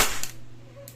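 An airsoft pistol fires a single sharp shot at close range, followed by a brief decaying tail.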